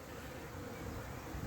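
Honey bees swarm around packed, busy hives, including a small nucleus box, making a steady, dense buzzing drone that stays constant and fairly close throughout, with no voices.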